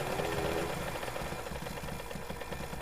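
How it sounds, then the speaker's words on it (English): Motorcycle engine idling in the 7 Days to Die video game, a loud, steady low rumble with a rough pulsing chug, continuous and close for the whole stretch. "I apologize for the loudness of the motorcycle."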